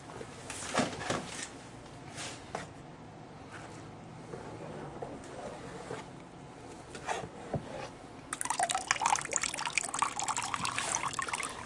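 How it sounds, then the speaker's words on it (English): A clean food strainer scoops oil absorbent out of a tub of water, giving splashing, trickling and dripping sounds that swell into a louder, steady run of pouring water near the end, with no talking. "we'll take a very clean food strainer and just scoop it out"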